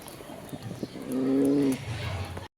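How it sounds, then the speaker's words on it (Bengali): Caged pigeons in breeding condition cooing nearby, with one clear, steady, drawn-out coo in the middle amid rustling and faint background noise. "দেখেন দর্শক কবুতরটা আসলে নিজের খাঁচাও যেমন বাইরের খাঁচাও যেমন ফুল ব্রিডিং মুডে আছে"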